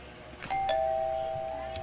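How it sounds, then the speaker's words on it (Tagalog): A doorbell chimes in a horror video game, a bright two-tone electronic ding with one long sustained ringing note that slowly fades against a quiet room hum. "I can trust that doorbell."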